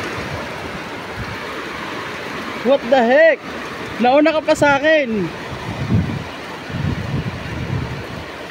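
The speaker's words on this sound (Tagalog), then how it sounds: "grabe lakas ng ulan, oh." Heavy rain pours down outdoors as a steady, loud hiss throughout, while people talk and exclaim over it.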